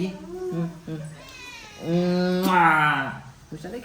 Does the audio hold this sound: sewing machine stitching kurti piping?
no